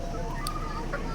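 A straight-combed broodstag rooster from a pure regular grey line gives brief, faint clucks over a steady background hum, close but quiet.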